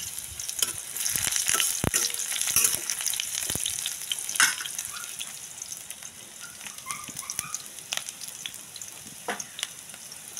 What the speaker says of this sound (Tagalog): And then, pag nagisa po natin ang bawang natin at sibuyas